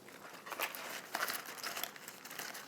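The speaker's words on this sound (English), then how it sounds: "I'll go ahead and cut it so that it easily fits through the chute of the juicer. I'll cut off the bottom." A knife cuts through a large head of romaine lettuce, trimming off the bottom. Close, crisp crunching and crackling leaf sounds continue in an uneven run with no talking.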